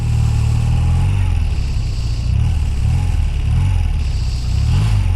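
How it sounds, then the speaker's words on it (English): A 41-year-old BMW R100CS Airhead motorcycle idles loud and close, its low boxer-twin thrum rising in several short revs and falling back between them, with no talk. "when you rev this bike, the whole thing just rotates over to the right"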